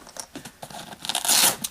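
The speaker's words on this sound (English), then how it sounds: "Nice strong Velcro here to keep it secure." Velcro on a Maxpedition multi-purpose bag is ripped open close by in one scratchy tearing pull that grows louder and peaks near the end, with no talking.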